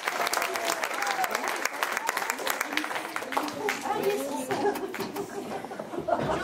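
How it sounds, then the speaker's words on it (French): Loud crowd applause at a cabaret show, sustained clapping with scattered chuckles and chatter mixed in, voices murmuring beneath the ovation. "On les applaudit bien fort."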